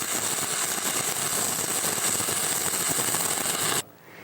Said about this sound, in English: Try to maintain a short arc gap and constant travel speed.